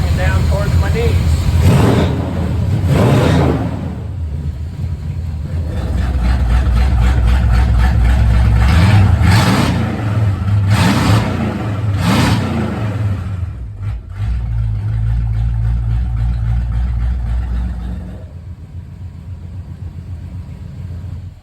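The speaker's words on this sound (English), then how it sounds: "And then to give it gas, I can bring it down towards my knees." Suburban truck with hooker dump-down exhaust cutouts, its engine revved by hand-control gas: several sharp rising revs over a deep rumbling idle, loud and close, settling to a quieter idle near the end.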